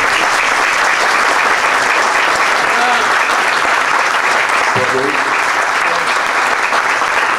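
A lecture audience gives loud, continuous applause for former footballer and commentator Walter Casagrande, a thick, unbroken roar of clapping close by with a brief voice audible through it.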